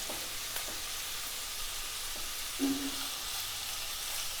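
Chopped onions and garlic cloves fry in a pan for a shahi paneer base, giving a steady, soft hiss of sizzling oil throughout with a brief clink partway.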